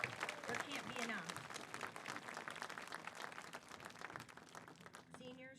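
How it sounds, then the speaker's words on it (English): An audience at a high school senior night applauds seniors with sustained clapping that gradually fades, while a speaker talks over it. "Seniors, oh, we can give them another round of applause."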